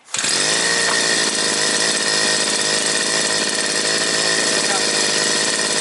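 A new petrol brush cutter fires up and runs, its small two-stroke engine screaming loud and steady at high revs, alone and close to the microphone throughout.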